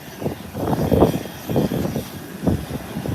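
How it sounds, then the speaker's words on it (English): A DHC-6 twin-engine propeller airplane taking off at an airport, a pulsing engine drone heard from a distance, surging in uneven waves at moderate loudness. "Yes, Merlin, beautiful takeoff."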